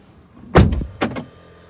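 Audi Q6 e-tron electric SUV door thudding shut up close, followed by a short whirring motor sound as the power driver's seat slides back into its memorized position.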